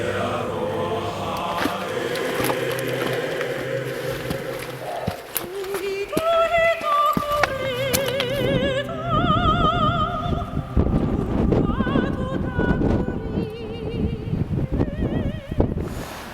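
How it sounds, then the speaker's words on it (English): Strong wind buffets the microphone on an exposed clifftop ridge in New Zealand, a loud continuous low rumble with gusty surges throughout, while a voice speaks intermittently over it. "It's getting really windy as as I'm walking along this ridge."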